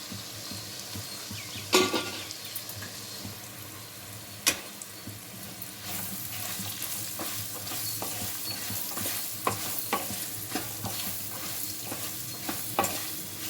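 Carrot pieces frying in oil in a pan, stirred thoroughly: steady close sizzling broken by frequent scraping and clacking spoon strokes, with no talking.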